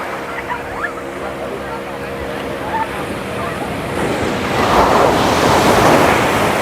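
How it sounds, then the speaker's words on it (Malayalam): Ocean surf at Candolim Beach rolls in continuously under gusting wind, the wash of breaking waves swelling louder and closer toward the end. "ഇവിടെ നല്ല തിരമാലകളുള്ള സ്ഥലമാണ്"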